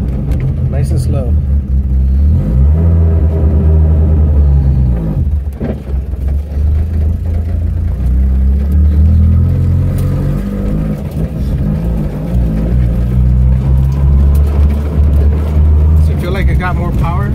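A car engine drones and revs under load while driving with a manual clutch, a loud, continuous low rumble with rising and falling pitch sweeps, and people talk over it throughout.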